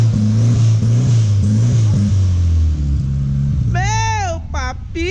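A Volkswagen Saveiro car engine runs rough while cold, giving a loud, steady low rumble with uneven, lumpy pulses throughout. A brief high warbling tone sounds over it near the end.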